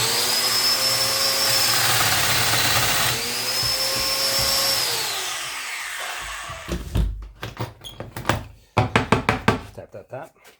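A Festool joiner cuts a mortise into 2x6 lumber: a loud whining motor runs for about five seconds with a rising plunge, then spins down into a series of sharp knocks and taps close by.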